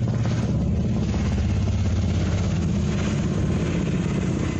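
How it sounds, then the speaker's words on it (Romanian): Combat helicopters fly over a war-affected area near Zaporizhzhia, a steady, loud rotor and engine drone filling the whole stretch without pause, with no voices over it. "se văd elicoptere de luptă care survolează zona"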